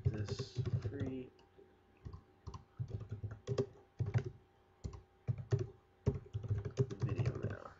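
Fingers tap on a computer keyboard in quick irregular bursts of close, crisp keystroke clicks with short pauses between runs, set against a quiet room.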